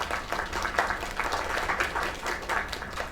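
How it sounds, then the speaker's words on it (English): A crowd in the video game Lake claps steadily, a dense patter of applause at moderate volume that continues without a break. "That was Kay, people. Another round of applause."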